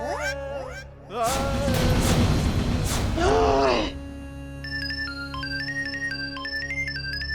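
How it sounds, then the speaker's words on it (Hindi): A phone ringtone plays a bright, repeating melodic pattern at moderate volume, following a groaning vocal outburst. "किसका बजा फोन?"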